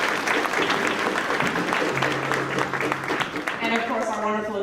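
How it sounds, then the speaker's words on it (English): Audience at a school spring band concert claps loudly and steadily, a dense wash of applause with cheers mixed in and voices talking over it. "let's give them a round of applause"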